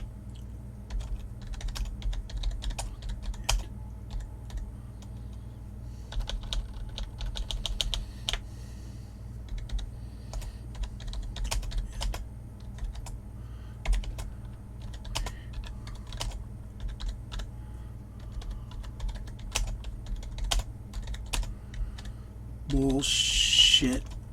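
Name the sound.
typing on a computer keyboard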